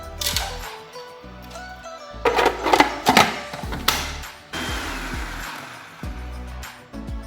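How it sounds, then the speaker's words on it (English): Food processor chopping half an onion and a bunch of parsley in a home kitchen, loud choppy whirring in several uneven bursts with short pauses and clattering between them, no talking. "Half an onion and a bunch of parsley. Straight in the food processor."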